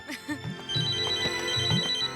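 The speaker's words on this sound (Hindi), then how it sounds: "लगता है इनका फोन है" A phone rings indoors in a Hindi television drama scene, its electronic ringtone repeating a bright warbling tone several times over about two seconds, loud and clear with no talking over it.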